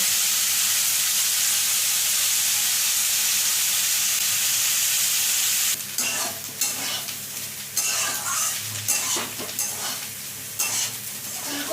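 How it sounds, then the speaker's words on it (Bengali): Taro stalks frying in oil in a pan give a constant close sizzle and hiss, joined partway through by scraping and clattering stirring strokes from a spatula. "লতিটা ভাজা হয়ে গেছে এবারে একটা পাত্রে ঢেলে নিচ্ছি"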